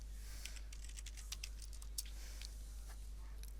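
Quick, light keystrokes on a computer keyboard as a search keyword is typed, a short run of soft clicks, close but faint over a low steady hum.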